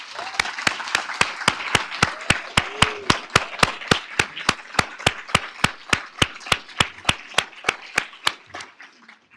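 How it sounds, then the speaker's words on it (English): A round of applause for students at a summer research institute capstone keynote, dominated by one close, loud, steady rhythmic clapper over a softer crowd clapping behind. "please, one more round of applause for our students"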